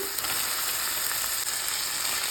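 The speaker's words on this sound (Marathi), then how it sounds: "थोडंसं मीठ घालून घ्यायचं भात घालून घ्यायचा आहे शिजवलेला" Cooked rice tossed and stirred in a hot frying pan, giving a steady, close sizzle with faint scraping, and no voices.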